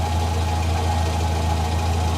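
A 1968 Morris engine idles with exhaust misfires, a steady close low rumble with an irregular knocking pulse running through it.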